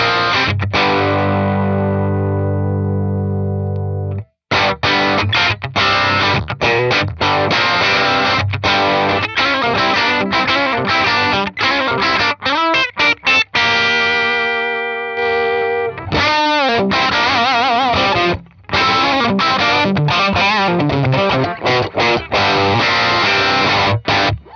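Loud distorted electric guitar through a modelled Vox amp on an Axe-Fx III, playing chords and riffs, sustained notes with brief pauses between phrases, no voices.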